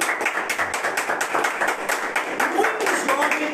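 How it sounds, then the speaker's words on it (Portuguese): Audience clapping fills the room in dense, steady applause that holds for several seconds, with scattered talk mixed in, during a live talk event on prostate cancer myths and facts. "Eu quero mais uma vez uma salva de palmas para essa mulher."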